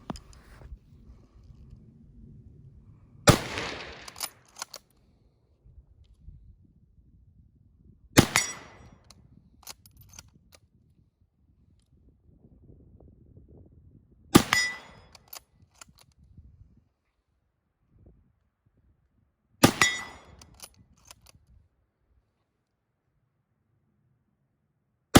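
Five loud, sharp rifle shots from a Mosin Nagant M91/30 in 7.62x54mmR, spaced several seconds apart, each with a brief ringing tail and quiet handling noise between them.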